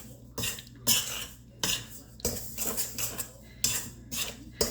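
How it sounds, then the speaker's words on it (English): Pumpkin pie spice and baking soda being whisked in a bowl, rhythmic bursts of metal scraping and clinking against the bowl, about eight quick strokes close up with no talk. "So I'm just gonna give that a quick mix."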